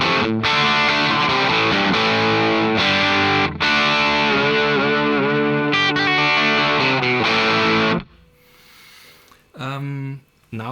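Heavily distorted electric guitar with the gain turned up through a Bogner Goldfinger 45 amp, loud dense chords ringing for about eight seconds, then a brief pause and a short sustained note, with slight hum from the effects loop.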